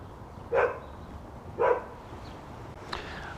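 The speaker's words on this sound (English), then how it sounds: "Sorry, the dog's barking." Two sharp dog barks about a second apart, a fainter third yip follows; moderately distant against a quiet background.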